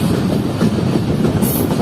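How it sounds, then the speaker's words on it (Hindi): A Jand passenger train rolling toward Attock in Pakistan, its wheels beating a steady clickety-clack on the rails, loud and close throughout. "और हमारी 10 पैसेंजर जा रही है इस वक्त फाटक की तरफ।"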